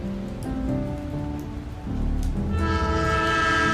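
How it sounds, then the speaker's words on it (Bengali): A train horn blows in sustained tones over the heavy rumble of a train departing a station, growing louder and brighter as it pulls away. "ট্রেনটা আবার তার হুইল সেল বাজিয়ে নিজের গন্তব্যের দিকে এগোতে শুরু করল"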